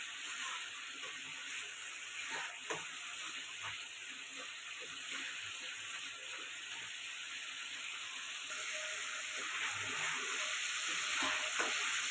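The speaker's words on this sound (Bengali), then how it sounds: "খুব ভালো করে এটা কষিয়ে নিব যাতে কাঁচা গন্ধটা চলে যায়" A prawn malai curry masala sautés in a pan, giving a soft, steady sizzle with occasional stirring clinks and scrapes. It sounds fairly quiet and even, and grows slightly louder toward the end.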